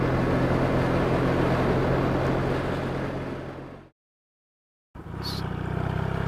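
Yamaha XS650 SF motorcycle with drilled-out exhaust mufflers, a loud, close, steady engine drone with wind roar that cuts to silence for about a second, then resumes.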